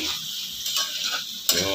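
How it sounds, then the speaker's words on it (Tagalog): Chicken tinola with sayote and malunggay stirred in a home cooking pot, giving a short stretch of soft scraping and light clinks over a faint simmering hiss, ending in a sharper knock. "Haluin natin mga kaibigan."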